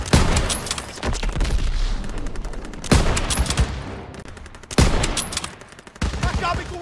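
Bursts of gunfire from the video game Call of Duty: WWII on the São Miguel map, loud, clustered volleys and rapid fire in three main waves, with booms and brief in-game voice callouts between them.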